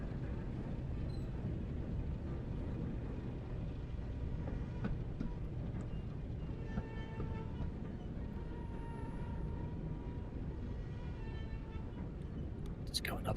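A bouncy old diesel locomotive driven in a train simulator video game, a steady low engine rumble with rail rattle and faint clicks running throughout, with a voice talking over it.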